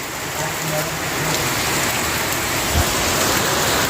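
Heavy rain pours down steadily, a loud continuous hiss of drops drumming on surfaces, with a low thump midway through.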